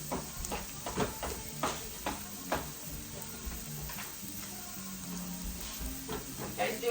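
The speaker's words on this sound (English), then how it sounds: "I'm just stirring this around a little bit" Ground turkey and onion sizzling in a pan while being stirred: a steady close frying hiss broken by irregular scraping and tapping strokes from the stirring.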